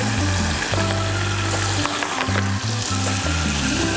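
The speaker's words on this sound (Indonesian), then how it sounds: "Terus kita goreng aja sampai sesuai sama selera kalian ya" Sausages coated in egg and cornstarch fry in hot oil, giving a loud, steady, dense sizzle that runs unbroken throughout with no talking.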